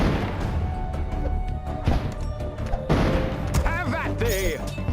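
Cannon fire in the Kingdom Rush Frontiers tower-defense game: repeated booming blasts and crashes in a busy battle mix with chirpy effects, heard under a player's running commentary.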